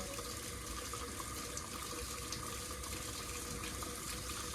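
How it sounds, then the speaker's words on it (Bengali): Water poured into meat cooking in a clay pot, a continuous steady rushing pour that stays even throughout, with no voices. "মাংসটা কষানো হয়ে গেছে, এবারে জলটা দিয়ে দেবো।"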